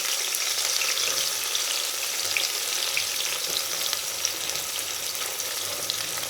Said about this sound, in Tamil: இப்போ ஆனியன் போட்டுக்கலாம்.